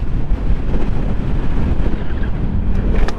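Steady, loud wind buffeting the microphone while riding a motorcycle fast, a dense low rumble with no break.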